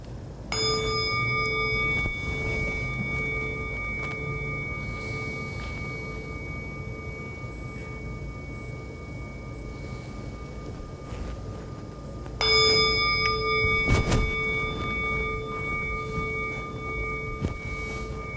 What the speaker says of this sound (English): So we'll ring the bell 3 times and try to get yourself settled by the 3rd one